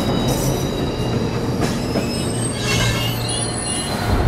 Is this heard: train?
yes